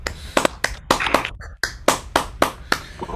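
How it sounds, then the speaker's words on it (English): A few unmuted online listeners clap after a physics talk, about a dozen distinct, separate claps at an uneven rhythm, with a short gap in the middle and no talking. "If the people in London at least can unmute and we can give you just a taste of a round of applause."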